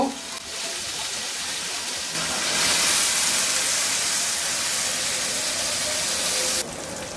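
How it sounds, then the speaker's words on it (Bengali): Steady hissing sizzle of chopped garlic and red chili frying in hot oil, loud and close, swelling slightly partway through, with no talking. "রসুন আর লাল মরিচ কুচিগুলা দিয়ে একটু ভেজে নিব"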